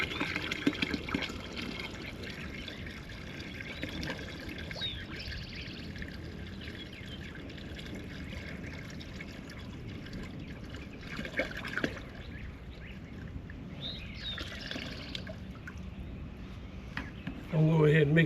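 A gallon of water is poured onto sugar to make bee feed, giving a soft, continuous trickling and splashing stream with some louder surges along the way.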